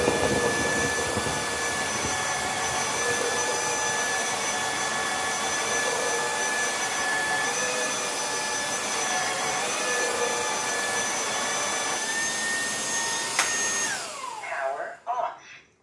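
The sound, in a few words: Ultenic AC1 robot vacuum cleaner suctioning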